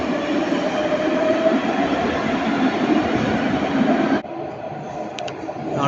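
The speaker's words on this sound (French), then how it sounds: "On le voit, le tram qui arrive." A tram arrives at the Jean Médecin stop in Nice on lines 1, 2 and 3, its loud steady rumble filling the platform before cutting abruptly to quieter station ambience.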